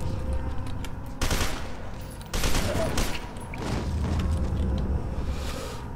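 Gunfire in the shooter game F.E.A.R. 2: Project Origin, with several bursts of rapid automatic fire separated by brief pauses, loud and close.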